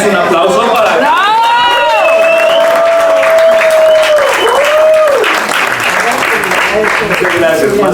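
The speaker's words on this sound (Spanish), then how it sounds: "más que merecido ese aplauso" Audience applause and cheering at a storytelling talk, dense clapping throughout, with a whistle-like tone gliding over the top and voices blended into the crowd noise.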